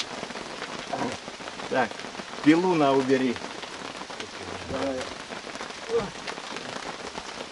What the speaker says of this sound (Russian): Невзначай ждали дождь и дождались.